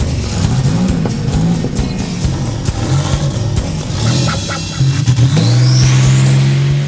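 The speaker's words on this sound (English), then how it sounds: "a Grand National that has a new turbo whining" A 1985 Buick Grand National with a new turbo and racing transmission launches hard, its loud engine roar building steadily while a rising turbo whine climbs above it near the end.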